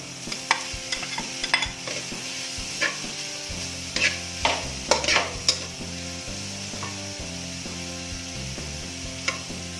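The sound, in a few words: hot dog frying in a pan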